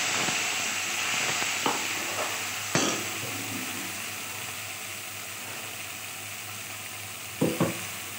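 Ground spice paste hits hot oil for a vegetarian man kochu (giant taro) curry. It gives a loud, steady, close sizzle throughout, with a few sharp clatters of utensils on the pan.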